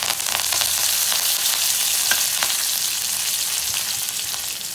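Curry leaves go into hot oil already holding mustard seeds and cumin, giving a loud, dense, steady sizzle with scattered crackles and pops throughout, close up, with no voices.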